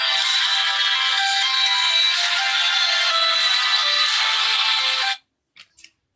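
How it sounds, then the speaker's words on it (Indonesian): A telephone rings steadily and loudly for about five seconds, a continuous electronic trill, then stops, leaving near silence with two brief faint blips, during an Islamic tafsir lecture. "Oh, ada telepon itu."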